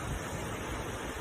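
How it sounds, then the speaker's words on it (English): Gusting hurricane wind roars as a dense, continuous broadband rush, loud and close on the microphone with no voices over it. "look at that gust. Look at that gust."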